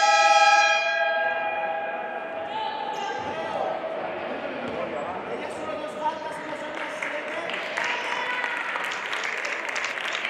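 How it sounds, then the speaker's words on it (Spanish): An arena crowd at a Spanish women's basketball game applauds steadily as a player leaves the court after her fourth personal foul. The clapping is moderately loud and continuous, with a commentator talking over it. "Los aplausos del público"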